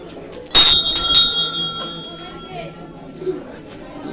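A temple bell rings out sharply once and leaves a ringing tone that fades slowly, over a background murmur of a crowd on Mahashivratri night.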